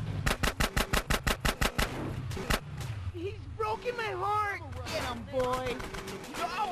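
Rapid automatic gunfire from Grand Theft Auto: San Andreas on PS3, a dozen evenly spaced loud bursts and then a pause, followed by game sounds and a voice talking over more scattered shots.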